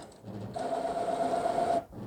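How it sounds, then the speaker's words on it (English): A Brother MFC-J4340DW inkjet printer runs a printhead cleaning cycle, whirring steadily for about a second and a half, a buzzing motor drone with a faint high whine, then cuts off. "And as you take your printer a minute, you'll hear lots of noises coming from it."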